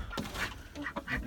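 Backyard ducks quack in a few short calls spread over about a second, fairly close.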